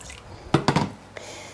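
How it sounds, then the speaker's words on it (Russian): Water poured into a tomato sauce mixture for lazy cabbage rolls makes a few short, close wet splashes and squelches, then a faint final drip, with no talking. "Разбавляю это все водичкой."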